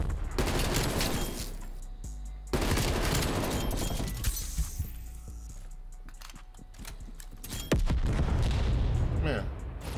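Lightning-gun fire in Black Ops Cold War, loud sustained bursts of shooting with sharp attacks near 2.5 and 7.7 seconds, dense crackling blasts running through most of the stretch, with a voice talking over it.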